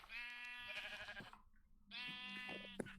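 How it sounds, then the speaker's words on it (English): Flock of sheep in the Minecraft video game, bleating in two long, loud calls separated by a short pause, with no talking. "And a whole bunch of sheep."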